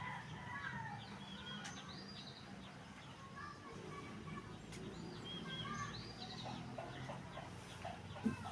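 Chickens cluck and call repeatedly at moderate distance during a feeding of farm animals, with people talking quietly and background noise underneath.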